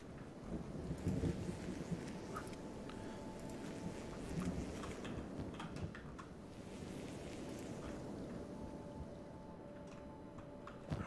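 Steady rain falls with low rumbles of thunder rolling underneath in the video game Kenshi, a continuous soft wash of drops with occasional heavier swells.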